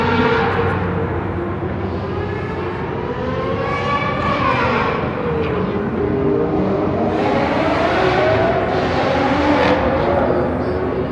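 A car accelerates hard past on a street in Yokohama, its engine note rising and falling loudly and continuously as it pulls away, with a second surge following close behind.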